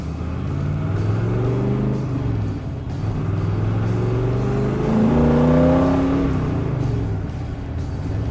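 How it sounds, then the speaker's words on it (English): A 1967 Corvette with four-wheel disc brakes runs hard around the track at the National Corvette Museum's Motorsports Park, its engine loud and close, rising through revs and dropping at shifts before climbing again. "See how well it performs on the track at the Motorsports Park"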